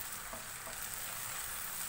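Hakka noodles with soy sauce cooking in a pan over medium flame, a soft continuous frying hiss and sizzle, faint and steady for a brief moment with no voices.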